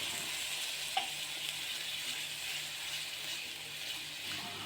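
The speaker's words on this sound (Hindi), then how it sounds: "अब ये दूध खुश्क होने तक इसे अच्छी तरह पकाएंगे।" A flour and milk mixture bubbles in a pan with a steady close sizzle and fizzing hiss, and one faint utensil tap can be heard.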